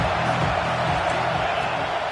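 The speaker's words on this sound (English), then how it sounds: "This crowd rising up, sensing that its defense needs some help." Stadium crowd in a Madden football video game, a broad steady roar of cheering that holds at an even level throughout, with no talk over it.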